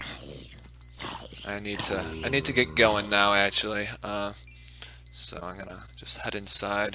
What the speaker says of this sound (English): That's my alarm telling me that, hey, it's time for you to go